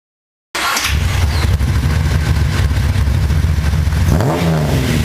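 A Nissan Skyline Hakosuka's S20 2.0-litre twin-cam inline-six with six carburettors starts abruptly and holds a loud, close, gritty roar, its pitch rising and falling slightly near the end.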